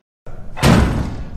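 Knocking on an apartment door: a burst of loud, close thumps on the door, solid and resonant, with a further short knock at the very end.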